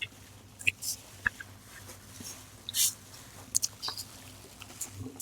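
Someone crunching on crispy fried Filipino comfort food, with sharp, irregular bursts of close-up chewing and crackle separated by quiet gaps, faint murmured speech in the background.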